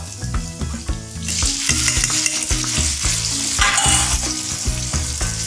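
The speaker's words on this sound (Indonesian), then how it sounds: "setelah harum, kita masukkan wortel" Carrots sizzling and frying in a pan for vegetable risoles, a steady crackling hiss with stirring scrapes throughout, loud and close, rising briefly near the end.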